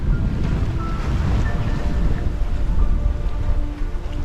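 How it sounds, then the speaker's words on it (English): Wind rushes past a sailing boat at sea on the Pacific, a steady loud roar of wind buffeting the microphone with water noise beneath, with no talking. "then the wind come back with it."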